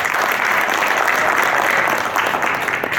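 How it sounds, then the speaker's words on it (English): An audience at a US-Uganda international trade summit applauds, a dense, steady clapping that fills the room for a few seconds without pause. "Please give her a round of applause."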